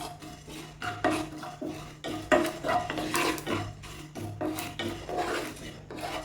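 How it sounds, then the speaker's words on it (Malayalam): Fenugreek and cumin seeds being dry roasted in a pan for homemade rasam powder, a continuous dry scraping and rasping of seeds stirred across the metal, up close with uneven strokes and no talking. "രണ്ടും കൂടെ ഒന്ന് ചൂടാക്കി കൊടുക്കാം."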